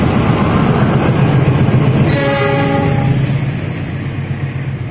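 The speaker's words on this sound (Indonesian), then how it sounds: "ini dia kereta api Cikuray pada siang ini ditarik oleh lokomotif dinas seri CC2061342 depo induk milik SDT atau Sidotopo Surabaya" Cikuray passenger train hauled by a CC206 diesel locomotive, a loud steady rumble of the train running close by, with a brief horn-like tone in the middle and the rumble fading slightly at the end.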